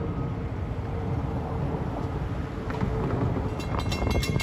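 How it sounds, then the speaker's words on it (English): A train rolls past at Mineola in a loud, steady rumble that holds throughout, with faint high rail squeals and ticks toward the end and no speech. "this will be our last train that I'll see here in Mineola at 4:16"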